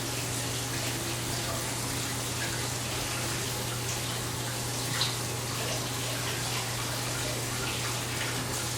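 A tap runs steadily for rinsing off excess flour, a continuous broadband water hiss over a low constant hum, with no talking.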